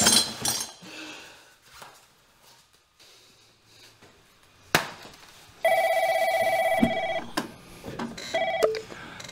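A telephone call being placed to a bicycle parts company, with steady electronic ringback tones and brief beeps sounding clearly alone, preceded by some clinking handling noises.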